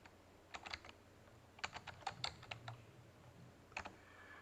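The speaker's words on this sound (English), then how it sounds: "then I'm going to type in my watermark" Soft, close keystrokes on a computer keyboard come in short irregular bursts of clicks with brief pauses, quiet and alone, as watermark text is entered.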